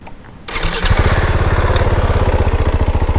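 A Husqvarna 701 Vitpilen motorcycle engine with stock exhaust fires up and settles into a steady, throbbing idle, loud and close, with a plain, muted exhaust note.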